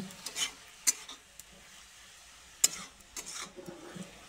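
Betho shak greens fry in a pan while being stirred: faint sizzling beneath intermittent scraping and clinking of a spatula against the metal, with quiet gaps between strokes.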